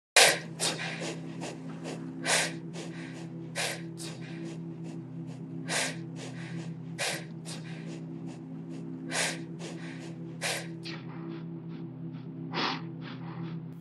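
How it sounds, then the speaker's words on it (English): Looped sample of people breathing in a steady rhythm: sharp airy inhales and exhales repeat roughly every second or so over a sustained low drone, close and clear, with no talking. "I want to find like a loop of like people breathing in like a rhythmic way."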